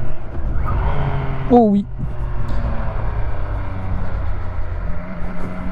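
MV Agusta Dragster RR motorcycle engine droning steadily while riding, a loud continuous roar with a brief rising whine partway through, under a short spoken exclamation.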